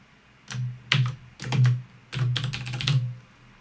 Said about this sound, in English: I can also press the N key on the keyboard.